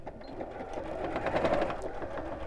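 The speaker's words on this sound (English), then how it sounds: "I'm going to sew with a 1/2 inch seam allowance just down one side here." A sewing machine stitches a straight 1/2 inch seam through thick layered patchwork fabric for a raggy cushion cover, running steadily and close at an even, continuous hum.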